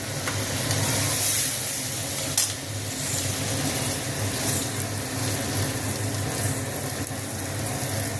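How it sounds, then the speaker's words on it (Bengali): Gobindobhog rice and lentils are stirred and fried in a pot with spiced oil for khichuri, giving a steady, close crackling sizzle with scraping stirs throughout and no talking. "চাল আর ডালটা দিলাম। এবার একটু নাড়াচাড়া দেবো, ভাজা ভাজা করবো এটাকে"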